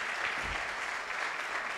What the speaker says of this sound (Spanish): Un aplauso para ustedes nuevamente.